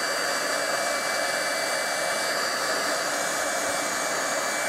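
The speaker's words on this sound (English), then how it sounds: "the heat tool, and I'll just quickly move it around" Steady hot-air roar from a heat embossing tool blowing over a card, constant and close with no talk.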